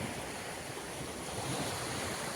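Sea surf washing onto a Black Sea shore at Balchik, a steady broadband rush with a touch of wind noise, continuous and fairly loud with no voices.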